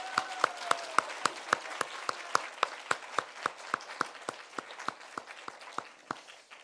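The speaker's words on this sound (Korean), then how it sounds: "김민택 강도사님, 우리 박수로 환영하겠습니다" Clapping from a church congregation welcoming a new youth minister during a Sunday service, with a handful of sharp hand claps cutting through the steady, close applause, no talk over it.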